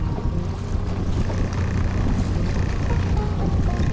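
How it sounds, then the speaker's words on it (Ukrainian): Steady wind roars and buffets the microphone over open water, a constant low rumble with no voices. "Але такий вітер дує"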